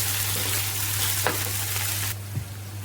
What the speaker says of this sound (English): So I'm going to mix this up until the mince looks cooked.